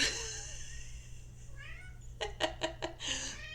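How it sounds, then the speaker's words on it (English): A heavy, 20-pound house cat meows softly nearby, followed by a quick series of short chirping or clicking calls and another meow, all over a low steady hum. "It's a fat ass kitty."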